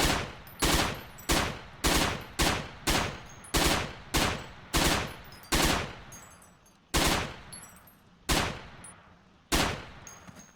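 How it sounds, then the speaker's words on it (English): A submachine gun in the video game Forgotten Hope 2 fires single tapped shots, around fourteen sharp reports in a fairly even rhythm. Each shot trails off in a short echoing decay. "you can also hit targets from further away with a submachine gun by single tapping like this"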